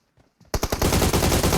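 Rapid automatic gunfire in the mobile shooter PUBG Mobile, a sustained loud burst of shots after a brief quiet start, with no speech over it.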